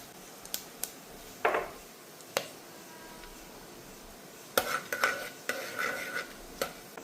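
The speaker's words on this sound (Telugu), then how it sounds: "ఇప్పుడు ఆయిల్ వేడెక్కింది, మసాలాలు కూడా వేసేసుకుందాం." Whole spices, star anise, marathi moggu, shahjeera and cloves, drop into hot oil for egg biryani and get stirred. Scattered clicks and utensil scrapes sound close but quiet, with a faint sizzle and no talk.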